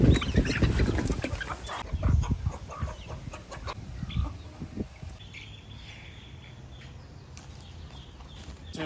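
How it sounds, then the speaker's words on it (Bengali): Free-roaming local chickens on a rooftop cluck and squawk in short bursts, loud at first, then a quieter stretch with soft background noise. "মাঝে মাঝে আমার এই মুরগিগুলোকে আমি পুরা ছাদেই ছেড়ে দিই"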